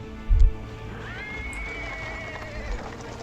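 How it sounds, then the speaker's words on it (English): In the video game Pathfinder: Wrath of the Righteous, a horse pulling a cart whinnies with a rising, drawn-out call over a low rumble, after a soft thud near the start. "A cart drawn by a sad little horse appears from around the corner."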